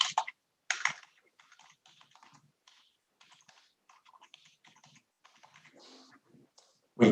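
Quick, light clicks of typing on a computer keyboard come in short irregular bursts, close and fairly quiet, with a few louder taps at the start and end.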